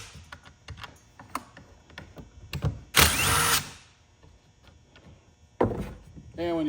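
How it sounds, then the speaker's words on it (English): A handlebar pops off a Stihl MS 400c chainsaw with its plastic fuel tank; light clicks and tool ticks lead to a loud burst of scraping, with further sharp knocks and mechanical clatter after. "pop this handlebar off here."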